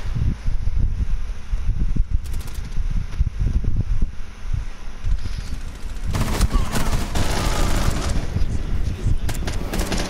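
Rapid bursts of gunfire from a shooter video game, dense crackling shots throughout with a heavier, busier stretch toward the end, mixed with voices in the background.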